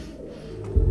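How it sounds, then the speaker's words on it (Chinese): Pigeons give a brief, low, soft coo, rising slightly louder at the very end. "这些鸽子都是飞去哪里的？"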